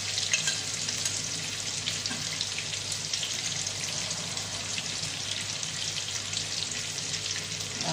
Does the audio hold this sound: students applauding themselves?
no